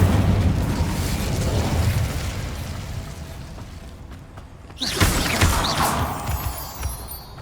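An Incendio fire spell cast in Hogwarts Legacy, heard as a rumbling, crackling rush of flame that dips briefly and then bursts into a louder whooshing blast with a sharp swish.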